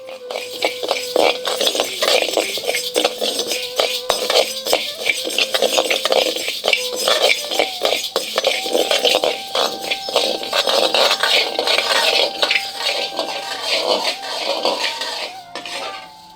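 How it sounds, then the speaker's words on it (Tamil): Moong dal and raw rice dry-roast in a pan, with grains rattling and a spatula scraping and clattering against the metal in a busy, continuous stir, close and loud, with no voices. "50 கிராம் பாசிப்பருப்பு, 20 கிராம் பச்சரிசி ரெண்டையும் இப்ப நல்லா வறுத்து எடுத்துக்குவோம்"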